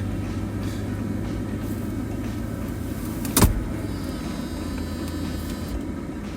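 A convertible car's power roof mechanism motors steadily over a low idling rumble, with a sharp clunk midway as the roof latches, then the whirring continues evenly to the end.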